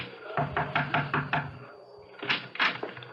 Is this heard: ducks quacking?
no